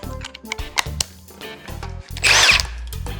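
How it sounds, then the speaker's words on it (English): A power drill or impact driver fitted with a 13mm nut driver runs in short, close bursts with pauses between, while assembling a rolling greenhouse bench, with one louder, harsher grinding burst near the end. "So we're gonna use this with this impact driver or a hand drill."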